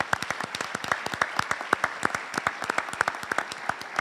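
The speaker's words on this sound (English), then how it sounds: "I'm going to ask for one more round of applause" A hall audience at a college athletics hall of fame induction applauds steadily, many hands clapping in a dense, even patter that holds at a moderate level throughout.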